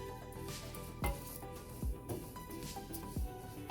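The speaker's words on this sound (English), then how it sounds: "I'm just going to stir this and toast it." Three cups of rice stirred and toasted in a pan over medium-high heat give a soft steady sizzle, broken by a few louder scraping knocks of the spoon against the pan. The sound is quiet and close, with no talking.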